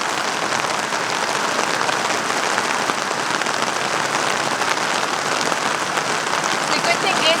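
Rain falls steadily as someone walks outdoors in clear plastic 8-inch high-heel mules, a dense, even patter of drops hissing continuously at a fairly loud level.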